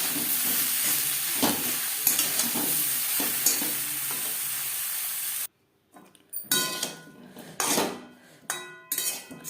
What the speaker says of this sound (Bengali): লবণ হলুদ দিয়ে আলু ফুলকপি তিন চার মিনিট হালকা করে ভেজে নেব